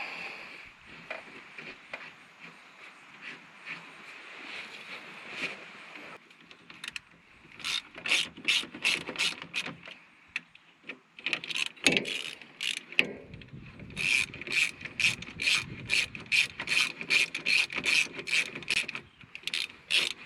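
Metal bolts being threaded and hand-tightened into an aluminum parking brake assembly on a John Deere Gator 825i, giving close, repeated rasping and ratcheting clicks in quick bursts, fairly loud with no voices.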